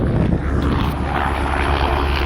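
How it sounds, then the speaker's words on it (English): A helicopter flies at an air show, its rotor and engine making a loud, steady roar that fills the whole stretch without letting up. "Guys, we have a helicopter."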